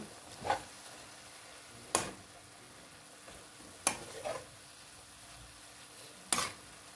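Browned meat frying in a pan on low heat with a faint continuous sizzle, broken by a few sharp, separate scrapes of a spoon stirring against the pan, spaced a couple of seconds apart.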